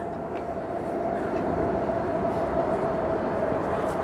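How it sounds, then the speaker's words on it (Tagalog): A train rumbles steadily across Central Bridge with a continuous low roar and a faint tonal hum throughout, heard from close by with no talk. "Nagpa-vibrate nga pag dumadaan yung train."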